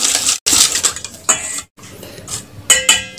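Spoon clinking and scraping in a bowl as milk is stirred into sesame tape cake batter, several bright close clinks in uneven strokes, loud and alone.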